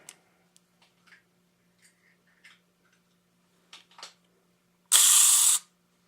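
A vintage camera's self-timer is wound with several small ratcheting clicks, then a burst of close, loud, buzzing mechanical ticking runs for about half a second before stopping abruptly.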